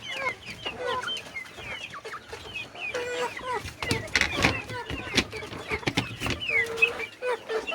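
Rhode Island Red chickens cluck and chatter in a farmyard in the provinces, with steady overlapping calls, occasional louder squawks and a faint far crow, moderately close.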